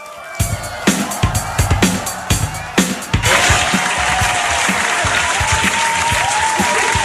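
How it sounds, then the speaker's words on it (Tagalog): A crowd at an outdoor rally for Senator Marcoleta claps in rhythmic bursts, then breaks into sustained loud applause and cheering that fills the rest of the clip. "Sampung palakpak para kay Senator Marcoleta"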